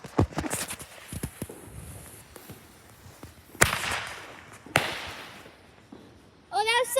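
A parachute firework is lit and launched in a home yard on the Fourth of July, with sharp cracks, pops and a rushing burst near and loud. A voice cuts in at the end.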